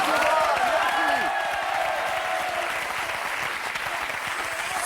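French TV talk-show studio audience breaking into loud sustained applause with some cheering, while a voice speaks briefly over the start of the clapping.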